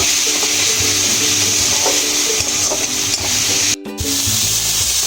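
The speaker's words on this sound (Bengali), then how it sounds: "ভালো করে মশলাটা কষিয়ে নেব।" Spice paste for a prawn curry with chilli powder and salt fries and is stirred in hot oil, a loud, steady sizzle with scraping stirring strokes throughout and a brief cut near the end.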